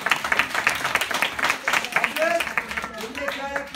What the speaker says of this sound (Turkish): Bir moral alkışı verelim.